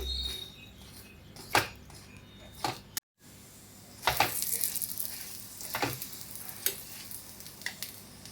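A soybean paratha fries in oil on a pan over medium gas, giving a steady close sizzle with sharp intermittent crackles and a brief dropout partway through.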